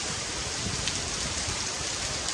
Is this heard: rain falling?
yes